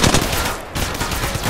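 Rapid automatic gunfire in the mobile game Apex Legends Mobile, loud and close, with dense bursts of shots and a brief gap near the middle before firing resumes.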